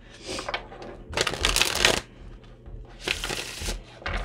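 Tarot cards shuffled up close, heard as two bursts of dense riffling rustle with softer card handling around them, fairly loud and with no talking.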